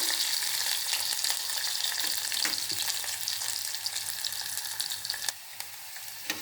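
Onions frying in a pan for a curry of dried fish with tamarind-leaf powder, giving a steady broadband sizzle with occasional stirring clicks, close and fairly loud, easing slightly in the final second.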